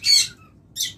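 A pair of lovebirds lets out two short, shrill squawks close by, separated by a brief pause.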